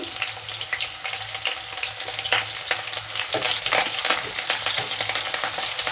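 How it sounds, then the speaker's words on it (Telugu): Sliced onions and curry leaves frying in hot oil in a pan, a steady loud crackling sizzle that runs throughout with faint stirring clicks and no voices. "బాగా వేగుతున్నాయి కదా"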